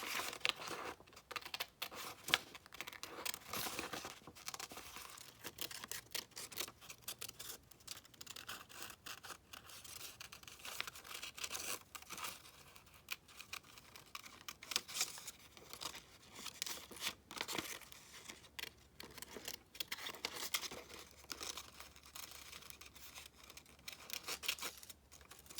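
Scissors cutting a piece of paper from an old journal, with steady close snipping and crinkling that runs on with no one talking.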